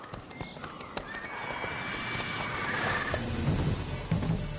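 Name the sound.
horse Roach whinnying and hooves in The Witcher 3 video game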